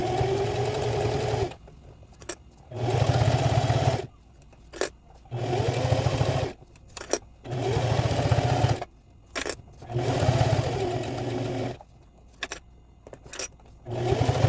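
A sewing machine stitches bias tape binding along the seam of a padded laptop bag, running in steady motorized bursts of a second or two, separated by short pauses, close and fairly loud.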